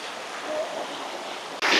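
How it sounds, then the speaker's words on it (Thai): A clear, cold mountain stream at Doi Inthanon, Mae Klang Luang, winding around lodging, gives a steady close rush of flowing water that swells suddenly louder at the very end. "ลำธารนี้คือจะวนรอบที่พักเลยนะครับ"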